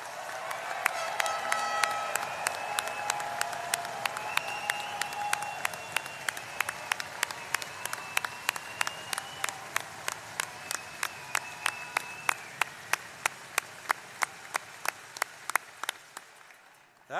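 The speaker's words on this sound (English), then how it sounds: "a great warm-up would be to cheer for all the moms in the audience" A graduate commencement audience applauds and cheers for the mothers present, a fairly distant wash of clapping that settles into sharp, rhythmic unison claps before stopping.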